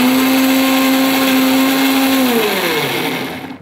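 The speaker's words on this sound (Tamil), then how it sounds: "ஸோ இப்போ இந்த தக்காளியும் சேர்த்து நல்லா பேஸ்ட் மாதிரி அரைச்சிக்கலாம்." An electric mixer grinder blends paneer and tomatoes into a paste with a loud, steady motor whine that holds, then winds down and slows near the end.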